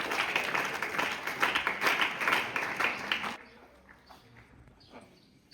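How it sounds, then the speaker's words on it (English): Audience applause for students at a school science day event, a dense burst of clapping for about three seconds that cuts off abruptly, leaving quiet room noise with a few faint sounds. "So give a big round of applause to all these students"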